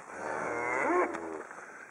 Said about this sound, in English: Suddenly I realized I have a lot of cows.